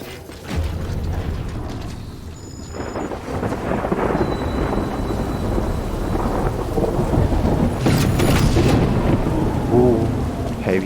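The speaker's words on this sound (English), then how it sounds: "Heavy rain, the storm is coming." Heavy rain and a rolling thunderstorm in the video game Death Stranding, a dense, steady downpour with deep rumbling thunder swelling and booming throughout, loud and close.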